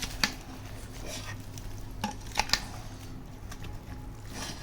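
Cut mango pieces coated in sesame oil are stirred with poured peanut oil for avakaya pickle, a soft wet mixing sound with a few sharp clicks of a spoon, fairly quiet and close.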